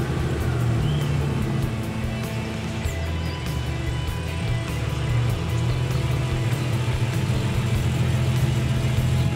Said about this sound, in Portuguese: Vamos ver agora a Fabiana fazendo uma manobra de baliza nesse carro.